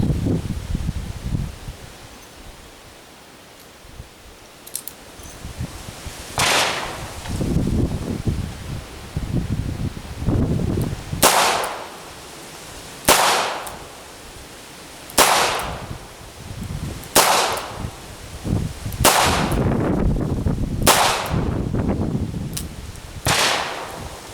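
Smith and Wesson Model 12 revolver fired outdoors, about ten sharp loud shots spaced a second or two apart, each with a brief echo, over wind and rustling.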